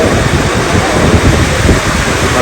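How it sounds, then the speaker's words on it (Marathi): Heavy rain pours down in a loud, dense, unbroken roar. "भरपूर पाऊस आलेला जोरदार"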